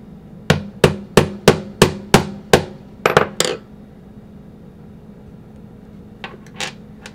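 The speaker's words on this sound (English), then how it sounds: "Take a hammer." A hammer drives a rod into a hole in a TechT Vortex mod, with eight evenly spaced sharp taps, a quick pair of strikes, then a few lighter knocks after a pause.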